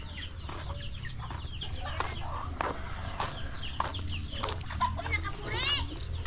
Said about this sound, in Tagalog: Ayun na yung mga manok natin, oh.